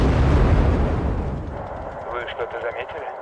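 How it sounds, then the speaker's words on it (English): An anti-aircraft gun fires in the video game Wargame: Red Dragon, a loud rumbling blast that decays into lower booms and crackles, with a voice talking over the tail end. "Oh, there you go, PVADs. That's an anti-aircraft weapon."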